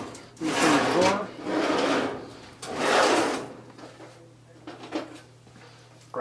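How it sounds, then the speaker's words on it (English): A drawer is pulled open with several broad, scraping slides and rummaging clatter in three bursts over about three seconds, then quieter shuffling. "reach in the drawer"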